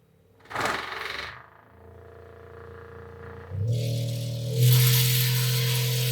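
An American Bass Godzilla 8 subwoofer plays a steady, very low tone that swells louder in steps, with rattling and buzzing from the surroundings growing as the level rises.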